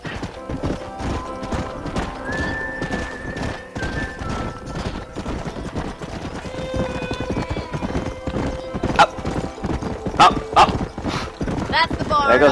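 Galloping horse hooves with occasional whinnies while riding in the Western video game Red Dead Redemption, a steady clip-clop rhythm under ongoing talk, with sharper louder hits toward the end.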